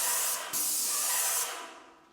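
A paint sprayer coating a ceiling gives a loud, close, steady hiss in two bursts separated by a brief break, then trails off at the end, with no voices.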